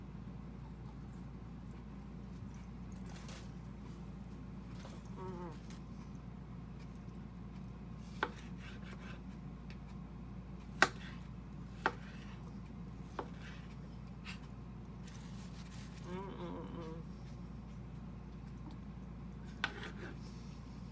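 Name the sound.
cutting beefsteak tomatoes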